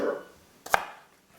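A single sharp knife chop cuts through a leek on a cutting board, one crisp close thud in otherwise quiet surroundings.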